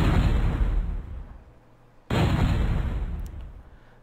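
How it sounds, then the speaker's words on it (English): A retractable rifle fires in the game MechQuest: two heavy booming shots with a short pause between them, each decaying into a rumble. "Retractable rifle."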